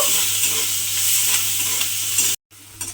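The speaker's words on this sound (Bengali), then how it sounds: "সেই পেঁয়াজ কুচিটা আমি এর মধ্যে দিয়ে দিলাম। দিয়ে পেঁয়াজটা একটু ভেজে নেব।" Chopped onion sizzles and crackles in hot oil in a pan, a steady close frying sound that cuts off briefly and then resumes more faintly.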